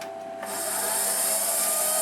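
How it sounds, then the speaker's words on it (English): An Emco Compact 5 CNC lathe spindle spins up and runs a cutting program, a steady high-pitched motor whine that starts abruptly after a quiet moment and holds constant close by, with no talking. "And here the spindle started, and it's now going through the motions of cutting."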